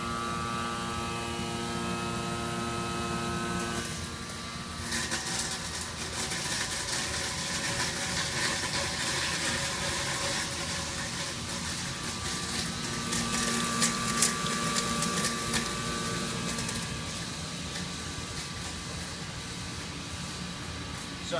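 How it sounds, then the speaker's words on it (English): A Corenco angle disintegrator runs with a 0.4 mm screen, giving a continuous, steady mechanical drone and hum that stays level throughout, with a slight shift in texture early on. "This is an angle disintegrator"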